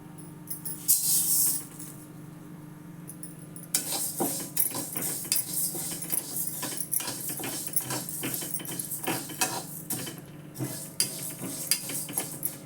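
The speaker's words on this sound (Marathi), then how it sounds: "आधी मी हे थोडंसं गरम करून घेते कढईमध्ये" Dal being warmed in a kadhai on the stove, with a spoon scraping and stirring against the metal pan in steady, rattling bursts; the clatter starts faint and becomes continuous and close.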